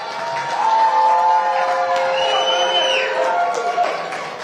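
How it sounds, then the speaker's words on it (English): A crowd at a boxing weigh-in for Chavez versus Flores in Palm Desert roars, cheers and whoops steadily, a dense sustained wash of noise with voices mixed in throughout. "Let's make some noise, clap it up for these two warriors"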